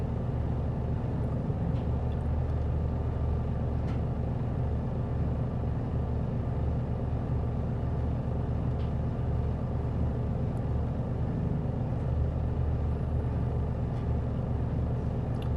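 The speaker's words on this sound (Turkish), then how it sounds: "Hemen aracı çalıştırıyoruz." A Mercedes Arocs heavy truck engine idling after startup, a steady, loud low diesel rumble that holds evenly throughout with no voices.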